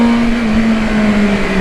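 A BMW M 1000 R motorcycle engine revving at high rpm, a loud, steady, close whine that holds and drifts slightly in pitch.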